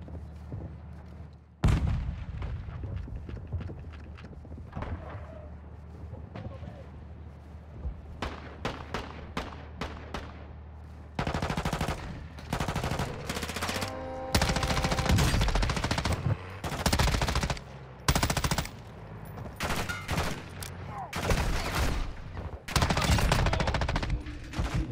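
Gunfire in the video game DMZ: sparse single shots early, then dense bursts of automatic fire and heavy booms packed together, loud and close, with no speech.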